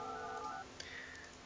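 Phone dialing tones from the Project Highrise building game: a short run of steady two-tone beeps, then a brief click and a higher tone, quiet and brief with no speech.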